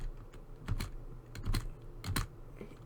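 Computer keyboard keys, including the spacebar, pressed during a Star Wars Battlefront 2 gaming session, in several quick clusters of clicky taps with short pauses between them, close and moderately loud.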